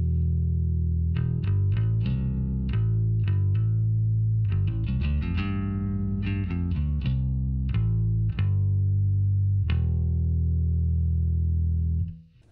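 Deep, heavily processed bass guitar notes and chords through a Two Notes Torpedo Wall of Sound cabinet simulator, thick and saturated with a chorus-like shimmer, played in a loose rhythm before cutting off at the end.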